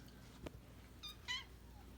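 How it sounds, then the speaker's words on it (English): A pet cat in a house, two or three short faint meows spaced about a second apart over a quiet room, soft and nearby with no voices. "But she's a good cat."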